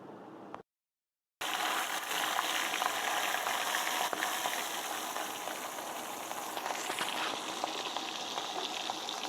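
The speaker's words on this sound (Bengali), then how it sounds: "চলো এই পিসটা ভেজে নিই" A marinated piece of hilsa fish, rubbed with salt and turmeric, fries in hot oil in a karahi, giving a steady close sizzle and crackle after a brief silent gap at the start.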